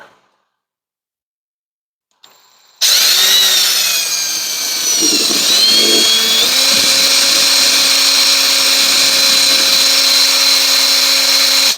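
A small bit drills holes with a sudden high-pitched whirring that starts after a short silence and then holds loud and steady close by, its pitch shifting as the bit bites in.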